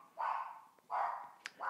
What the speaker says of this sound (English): what is Indigo barking at